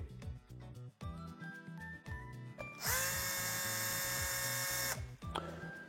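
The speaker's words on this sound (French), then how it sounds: "Nous allons l'apposer et nous allons bien préforer." An electric drill pre-drills mounting holes for a STIHL Smart Connector on a machine, with short bursts of whirring and clicking, then a sustained high-pitched drilling run of about two seconds before it winds down.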